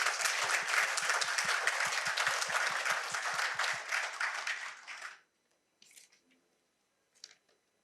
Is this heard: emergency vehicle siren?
no